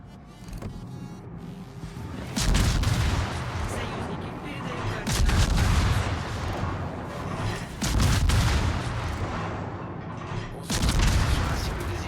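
Booming warship gun salvos in the naval combat game World of Warships, four heavy blasts spaced a few seconds apart, each with a rumbling tail over a constant engine drone.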